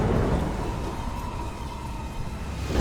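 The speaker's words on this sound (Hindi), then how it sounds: "बिजली चमकती है, जोरदार बारिश शुरू हो जाती है।" A cartoon thunderstorm: a deep rumble of thunder rolls under steady, heavy rain, loud and continuous with no voices.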